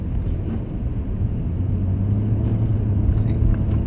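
An Acura SH-AWD car spins its wheels in Georgia snow, giving a steady low engine rumble and tire whir that builds slightly, heard from inside the car.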